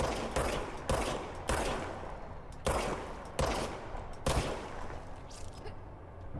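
Heavy gunfire from the video game Control: loud, sharp shots and short bursts at an uneven rhythm over about six seconds, with a continuous rumbling din between them.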